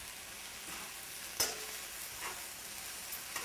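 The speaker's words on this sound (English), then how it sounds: "Now I'm going to add the kale into the potato, parsnip, onion, and garlic filling just for a second, just to combine everything." Kale being stirred into a potato, parsnip, onion and garlic pie filling in a pan, giving a soft steady sizzle with a sharp utensil scrape and a few faint scraping strokes, no talking.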